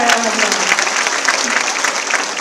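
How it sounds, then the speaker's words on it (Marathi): An audience at a political gathering applauds loudly and steadily, a dense wash of clapping close by from start to end. "जोरदार टाळ्या वाजवा."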